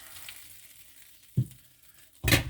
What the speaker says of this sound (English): And put the prawns in.